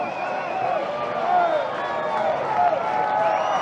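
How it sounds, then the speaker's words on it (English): A baseball crowd at an NCAA men's game between LSU and Auburn cheers and claps steadily in the stands, a broad wash of crowd noise running under a commentator's voice. "The crowd is sending out encouragement."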